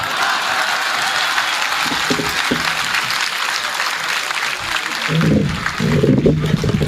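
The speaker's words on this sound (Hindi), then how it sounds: "ये उन्हीं लोगों ने ताली बजाई है जो मेरी तरह हैं।" Audience applause fills a Hindi comedy poetry show for Holi, a dense, steady clapping that swells louder in the final seconds, with a faint voice beneath it.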